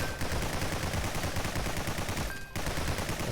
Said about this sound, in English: Just fire every bullet.